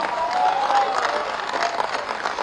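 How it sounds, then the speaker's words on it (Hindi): Crowd clapping at an outdoor political rally in Tripura, a fairly soft, continuous patter of many hands heard at some distance, with faint voices mixed in. "जरा हाथ उठाकर तालियां बजा दीजिए"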